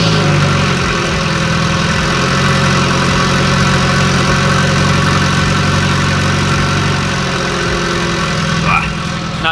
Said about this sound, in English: I'm gonna give you guys the first cold start on the channel